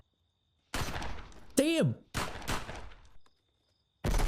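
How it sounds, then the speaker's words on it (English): Gunfire from the 2014 film Nightcrawler comes in loud, dense bursts that rattle for about a second each, separated by short pauses, with a person's brief startled exclamation cutting in between. "Maybe a lot of gunshots going off."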